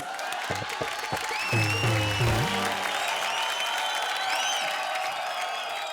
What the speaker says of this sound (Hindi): जोरदार तालियां इन दोनों के लिए